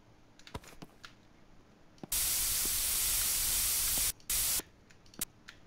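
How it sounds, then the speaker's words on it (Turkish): A toilet aerosol spray can in the game Internet Cafe Simulator releases two hisses, a long burst of about two seconds followed by a short second puff, loud and close over faint background clicks. "Dur tuvaletin spreyini kullanalım."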